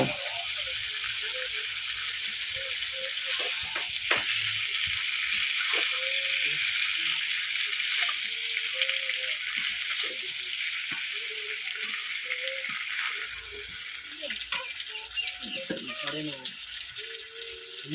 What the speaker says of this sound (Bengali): এবারে দিলাম যে ভাজা মাংসগুলো দিয়ে আরও কিছুক্ষণ কষিয়ে নেব